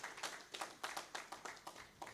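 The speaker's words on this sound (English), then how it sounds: "can you give SPE a round of applause" Audience at the SPE Abuja energy and governance event applauding, a faint, distant run of rhythmic clapping with no voices over it.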